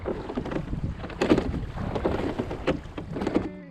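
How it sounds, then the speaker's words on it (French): Oars pull an ice canoe through the river in Charlevoix, a close, uneven sequence of splashes and knocking strokes over wind buffeting the microphone. "Les rames doivent suivre la même cadence et surtout rester près de la surface pour permettre une vitesse de croisière constante."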